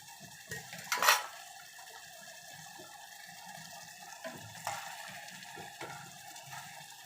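A spoon prods cooked goat lung in a cooking pot for a Malvani-style dish, making a few soft metallic clinks and scrapes, one louder knock near the start, against a faint background with no talk.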